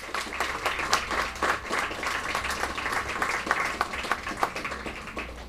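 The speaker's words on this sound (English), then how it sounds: "So let's give him also a big round of applause." An audience at the Mind Sports Olympiad gives a round of applause, a moderately loud patter of many hands clapping steadily at mid distance, uneven and ragged, without speech over it.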